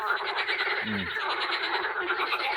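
Frogs croaking by a fishing pond on a May morning, a dense continuous chorus of rapid rattling croaks, loud and steady throughout, with one deeper croak close by.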